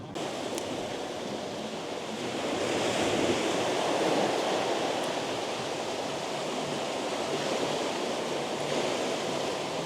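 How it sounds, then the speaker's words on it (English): Tide waves wash steadily onto the shoreline at Robin Hood's Bay at night, a constant surf roar that swells a little midway and carries some wind noise, with no voices. "the constant sound of the tide"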